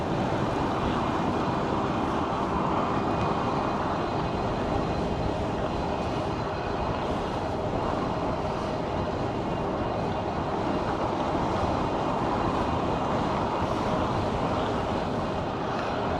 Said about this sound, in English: That is a heck of a headwind.